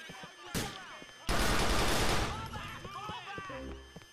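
Gunfire in the video game Grand Theft Auto IV: a loud shot, then a harsh, dense burst of rapid fire lasting about a second. Game voices and background sounds run before and after it.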